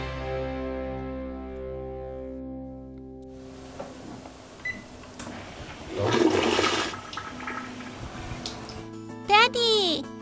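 A toilet flushes with a loud rushing surge of water midway, set against a cartoon-style music bed, with bright synth chirps near the end.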